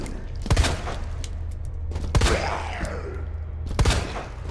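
Gunfire from a weapon in the video game Resident Evil 2: three sharp, loud shots spaced roughly a second and a half apart over a low steady game rumble.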